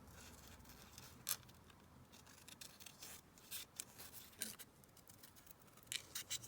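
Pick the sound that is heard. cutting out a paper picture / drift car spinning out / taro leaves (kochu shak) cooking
cutting out a paper picture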